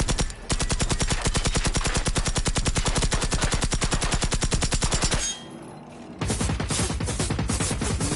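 Rapid, steady automatic fire from a submachine gun in the Generation Zero video game, loud and close, with a sustained burst, a roughly one-second pause, and then another burst.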